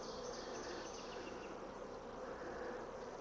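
Honeybees humming steadily around a working beehive, a dense continuous buzz that stays even throughout, soft and fairly distant with no voices.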